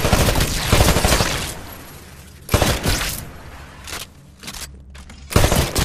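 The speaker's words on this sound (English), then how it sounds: "Switch to your rifle. Destroy all of the targets in the shooting range." Rifle fire at shooting-range targets in Titanfall comes in several loud, dense bursts of rapid shots separated by short pauses, with ringing impacts and clatter between volleys.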